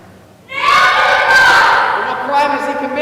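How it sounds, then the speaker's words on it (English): A school crowd in a Living Stations Passion play bursts into loud, sustained screaming and shouting that starts abruptly and holds for a few seconds, dense and close. "The crowd responded to the offer of Christ with the screams of"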